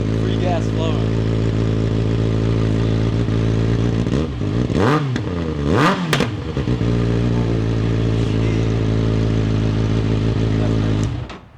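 A 2024 Kawasaki ZX6R idling with its exhaust removed, a loud raw close drone with two sharp throttle blips in the middle before settling back to a steady idle.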